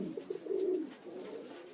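A pigeon gives a soft, low coo, a short burst then a drawn-out rolling call, close by in a quiet space.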